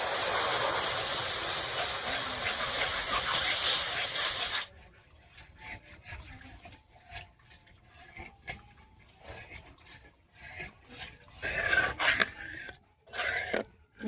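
Milk poured into hot sugar caramel hisses loudly and steadily for about five seconds, then cuts off sharply, leaving quiet scattered clinks and stirring sounds.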